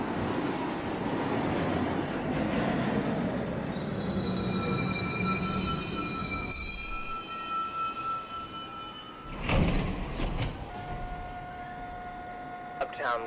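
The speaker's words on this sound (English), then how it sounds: "Uptown Local 1 train to Rector Street" An NYC Subway 1 train at Chambers Street station rumbles along, with drawn-out high wheel squeals and a sharp, louder burst of rail noise near the end as the cars move past.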